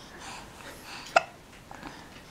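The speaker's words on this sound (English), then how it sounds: "Do you have the hiccups?" A single sharp hiccup bursts out once, close and fairly loud, against a quiet background with no talking.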